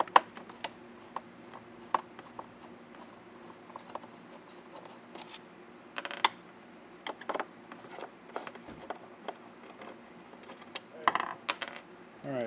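Small metallic clicks and clinks from screws being backed out of the base plate of a Riccar 8955 vacuum, scattered sharp ticks with a few louder rattling bursts, close and fairly quiet, with no talking.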